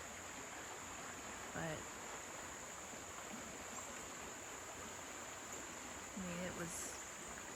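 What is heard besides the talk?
river running high after Hurricane Helene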